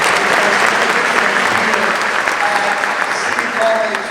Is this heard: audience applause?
yes